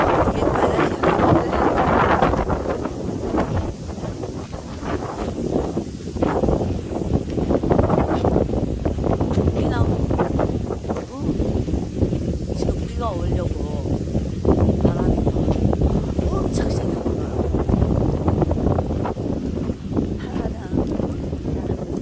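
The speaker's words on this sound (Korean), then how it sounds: "비 올 것 같은 바람." Wind gusting at Daecheong Lake, the kind that feels like rain is coming, roars steadily and close on the microphone for the whole stretch, with low voices mixed in.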